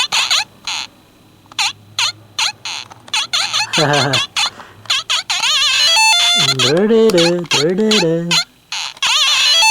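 Bouncy chiptune first-level music from an ES-16 Game Player RS-8D handheld console, with beeping notes and warbling swoops, plays on and off, loud and upfront, with a few pauses between phrases.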